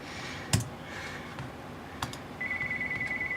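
A telephone rings in the background of a room, its pulsing electronic tone starting partway through after a few sharp keyboard clicks.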